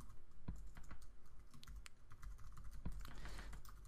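Quiet typing on a computer keyboard, with steady soft key clicks in uneven bursts and a few sharper taps, heard close without any talking.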